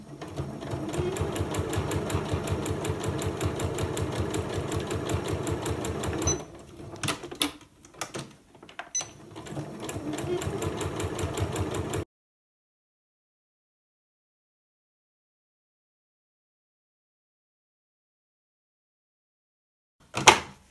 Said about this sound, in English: I'll just start stitching